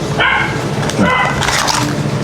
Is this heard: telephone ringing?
no